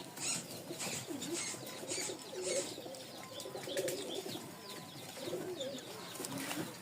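Bombay big-crest pigeons coo softly and repeatedly in a loft, with faint chirps and a low, steady background murmur throughout.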